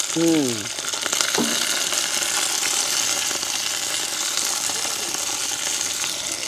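Onions, green chilies and curry leaves hit boiling oil in a village kitchen, starting a loud, continuous frying hiss with a few clinks of a utensil at first. A voice tone sounds briefly at the start.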